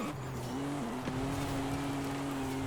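A race car in Forza Horizon 5 brakes into a corner, its engine note holding a steady tonal whine that dips briefly as the brakes are tapped, fairly close and continuous.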